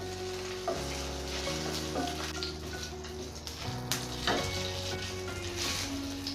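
Dried red chillies frying in hot oil for a mushroom kebab curry, a steady close sizzle with a few clinks and scrapes of a spoon against the pan.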